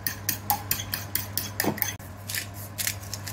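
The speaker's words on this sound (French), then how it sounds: "Je vais battre des œufs." Quick, steady rhythmic clicking and scraping of a fork beating two eggs in a bowl, close and fairly loud, with no talking.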